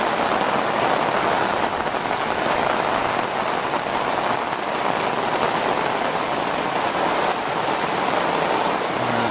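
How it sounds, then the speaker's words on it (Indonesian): Steady rain falls on a cornfield and patters onto an umbrella overhead, a dense, even hiss that carries on without a break and stays close. "Jadi ini hari-hari hujan ya"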